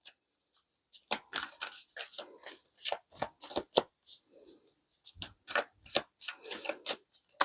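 Tarot cards shuffled close by in quick, crisp bursts of riffling and slapping, repeating steadily with short pauses and no talk.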